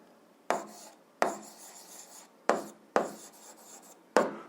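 Pen strokes on paper while an algebra equation is written out, five or six short scratchy bursts in an uneven rhythm, close and fairly quiet with brief pauses between them.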